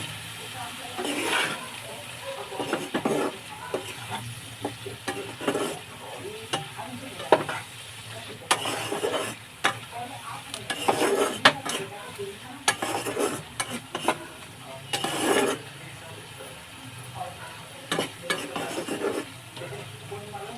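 Prawn masala sizzles and fries in a pan as spiced water is poured in, a steady hiss with repeated stirring scrapes and occasional clinks of a utensil, close and fairly loud throughout.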